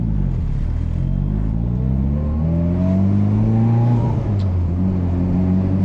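A turbocharged Mitsubishi Evo X with a manual gearbox and all-wheel drive revs loudly up and down from inside the cabin, its engine pitch rising and falling through several sweeps on a late-night drive.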